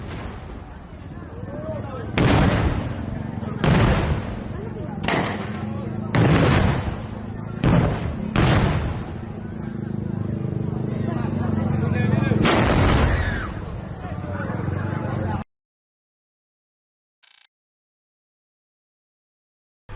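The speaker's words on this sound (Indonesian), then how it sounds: "Suara dentuman yang cukup keras dari meriam bambu membuat para pengunjung pun merasa takjub." Carbide-fired bamboo cannons boom loudly at a night Lebaran celebration in Pidie, about seven deep blasts at irregular intervals over crowd noise and a voice, followed by silence.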